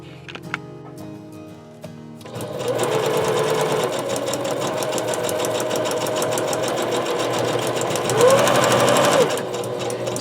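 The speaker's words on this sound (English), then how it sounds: "so now I'm just gonna sew these up, and then I'll show you the results" A sewing machine stitching folded paper letters, a few faint clicks and then a steady, close, rapid mechanical whirring that runs for about eight seconds, briefly rising in pitch near the end, with no talk.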